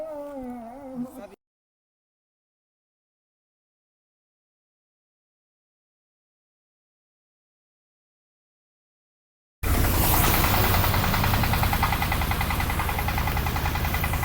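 A new-model, eco-friendly rice threshing machine runs in a paddy field. After a brief cry-like sound and a long silence, its engine bursts in as a loud, dense, steady roar that continues to the end.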